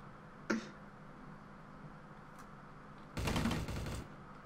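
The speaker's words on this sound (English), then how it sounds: "Oh, grenade!" A grenade blast in the shooter game Trouble in Terrorist Town: a brief pop, then after a pause a loud, dense burst of explosive noise that lasts under a second.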